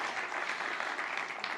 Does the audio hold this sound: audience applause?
yes